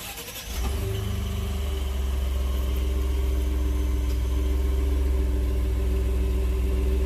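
A warm 2.7-liter twin-turbo EcoBoost V6 in a 2019 Ford F-150 XLT cranks and catches in under a second, then settles into a steady, close, even idle.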